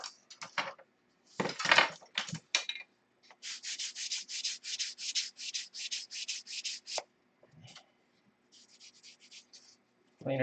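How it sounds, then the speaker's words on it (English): Sandpaper of 320 grit rubbed over a part, a follow-up to coarser 80-grit sanding for fitment: steady rhythmic scratchy strokes in repeated back-and-forth bursts, close and fairly quiet, with short pauses between passes. "Now I'm going back over with 320 just for fitment."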